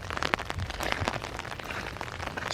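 Rain pattering on an umbrella on a dull, rainy day, a faint irregular spatter of drops with a few sharper taps, no voices.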